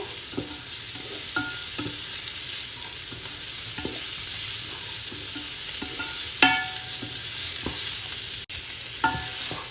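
Bacon sizzles steadily in a hot pan while being stirred for Spanish-style three-delights fried rice, with close, irregular scrapes and clicks of a utensil against the pan throughout and no voices.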